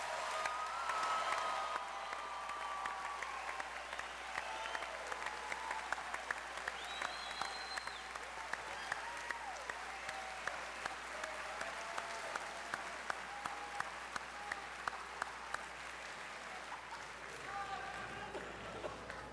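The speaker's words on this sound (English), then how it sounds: "one more round of applause and recognition for today's graduates" Sustained applause from a large audience honoring graduates at a university spring graduation ceremony, dense steady clapping filling the hall for the whole stretch with no voices over it.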